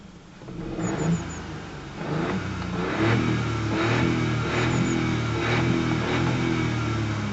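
A 2018 Hyundai Kona 1.0 T-GDi three-cylinder turbo petrol engine is revved up to its limiter, which holds it near 5,000 rpm. The note climbs, then settles into a sustained, steady drone, recorded close up with no talking.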